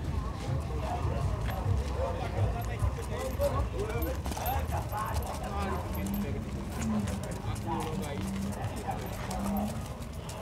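Horse hooves trot at a horse fair in Caruaru, Pernambuco, Brazil, in a steady patter beneath constant loud talk and crowd noise, with a dog barking nearby.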